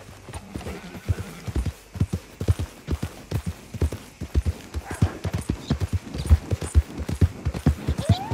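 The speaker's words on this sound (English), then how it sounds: "That's a strong-looking horse." Horse hooves clip-clop in Red Dead Redemption 2, with rhythmic, close, fairly loud hoof strikes on hard ground and a brief whinny near the end.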